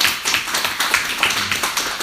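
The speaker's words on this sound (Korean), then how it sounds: "한번 이 시간 잠깐 격려의 박수 한번 칠까요?" A church congregation at a dawn service claps together in encouragement, a fast, dense patter of many hands that carries steadily through the room at close range.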